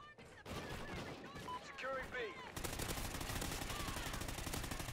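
Rapid machine gun bursts and dense gunfire crackle through a Call of Duty: Ghosts squad multiplayer match, loud and continuous for the full stretch, with a steadier sustained stream of shots in the second half.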